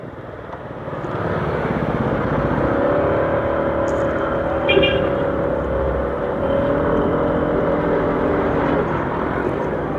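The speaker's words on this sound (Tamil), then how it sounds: "இப்போது வெஸ்பா 125 நம்ம வந்து டெஸ்ட் ரைட் பண்ண போகிறோம்." A Vespa VXL 125 scooter engine drones on a test ride, swelling after the first second into a steady, loud whirring hum mixed with wind rush that holds to the end.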